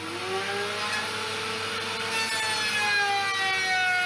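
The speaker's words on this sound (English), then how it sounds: "and this is the router I'm using" A router cuts wood during a home-built vocal booth door project, making a loud continuous whining, grinding drone with a shifting high pitch, close and steady throughout without pause.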